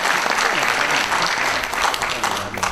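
A crowd at a book-launch reception claps warmly as arriving guests are welcomed; the applause is thick, fairly close and steady for a few seconds, with a few louder individual claps near the end.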